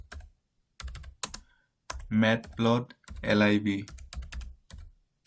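Keys on a computer keyboard click in quick bursts while a terminal command is entered, the soft tapping spread between stretches of someone speaking close by.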